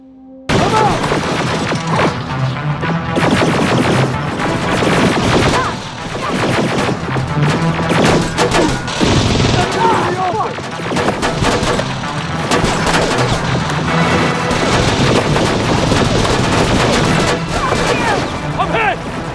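Dense, continuous gunfire rattles through a Terminator: Resistance battle, rapid overlapping shots and heavy bursts packed close together with loud crashing impacts, while voices shout over the din.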